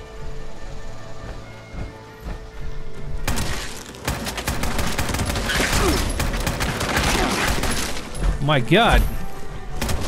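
A combat shotgun fires in Fallout 76, the video game, in a loud, sustained barrage of close blasts and booms after a quieter start, while a voice shouts an exclamation.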